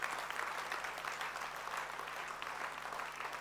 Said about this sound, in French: De la même manière, on peut applaudir le Seigneur.